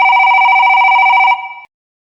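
A telephone rings with a bright, steady electronic tone for just over a second, then fades and cuts off, with nothing else around it.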